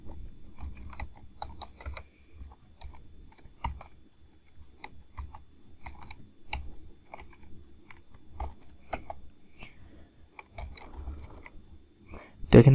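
Someone types Python code on a computer keyboard, producing quiet, irregular clicks and clacks in short bursts against a soft low background.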